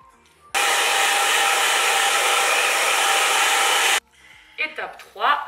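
A hair dryer blows on hair after a care treatment, switching on abruptly for a loud, steady whoosh of about three and a half seconds, then cutting off before someone speaks briefly.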